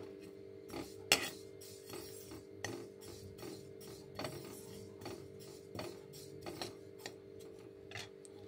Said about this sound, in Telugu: మనం తీసి పెట్టుకున్న నువ్వులని దూరగా అయ్యే వరకు కొంచెం వేయించుకోవాలి.